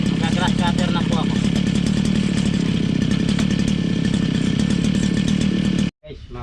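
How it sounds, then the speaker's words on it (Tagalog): A grass cutter engine runs steadily at close range, a loud continuous buzzing drone that cuts out abruptly near the end, with a voice briefly audible over it. "Mag-grass cutter na po ako."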